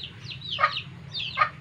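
Chickens cluck in two short bursts about a second apart, close by, over a low steady hum.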